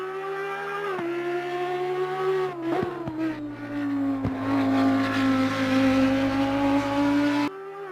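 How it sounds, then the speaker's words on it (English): An Audi race car engine in the sim racing game Assetto Corsa Competizione drones loudly and holds steady, the pitch dipping on quick shifts and shifting through the gears, close and continuous with no talk. "Love the way the Audi sounds."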